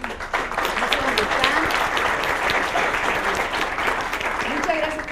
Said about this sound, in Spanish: Chile y Carolina Fayet, un aplauso porque coordinaron